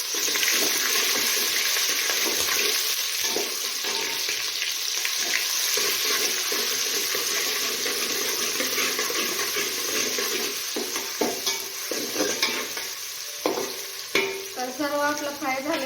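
Ginger, garlic and coriander paste sizzles and is stirred in hot oil for chicken biryani, a steady loud frying hiss with scraping stirs and a few clinks near the end.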